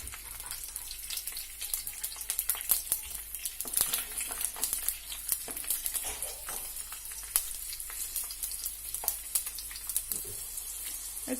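Garlic sizzling and frying in hot oil in a pan while pirandai chutney is being made, a steady close crackle with sharp spattering pops all the way through and no talking.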